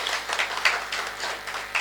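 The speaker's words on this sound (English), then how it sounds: "Let's give a good round of applause for that" Audience applause at a cybersecurity conference, a dense, even wash of clapping from a crowd in a hall, fairly soft and continuous with slight swells throughout.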